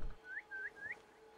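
A character in Assassin's Creed Valhalla whistles three short, evenly spaced rising chirps, clear and fairly soft against a quiet game backdrop.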